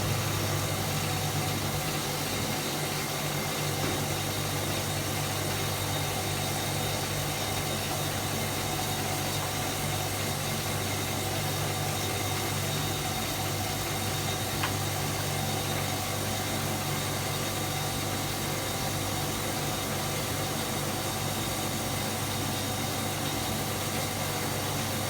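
A Hotpoint Supermatic Deluxe S9414 washing machine runs its spin cycle with a steady, continuous mechanical drone and low hum, unchanging and alone for the whole stretch.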